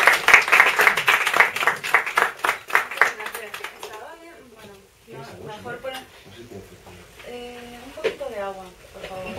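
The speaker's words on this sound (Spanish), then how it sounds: "os voy a pedir un aplauso para Sonia Betancourt" An audience at an open-mic poetry reading claps for poet Sonia Betancourt, with loud, dense applause that fades after a few seconds, after which voices speak near the microphone.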